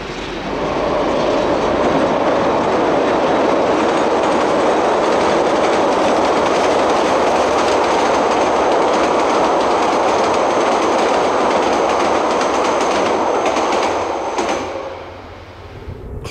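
Da 1431 diesel locomotive hauling a train across the Hurunui Viaduct in New Zealand, a loud continuous roar of engine and rumbling wheels that holds steady, then eases off near the end.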